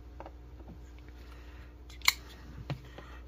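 A sharp knife slices through a hamburger bun from a Canadian military ration pack, giving one quick crisp cut and a softer second one against a quiet background.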